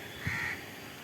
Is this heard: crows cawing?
yes